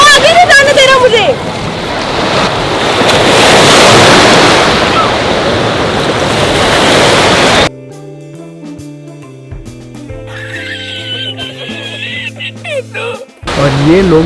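Ocean surf rolls in at Woodbine beach, a loud, continuous rush of breaking water and wind noise lasting several seconds before giving way to other sounds.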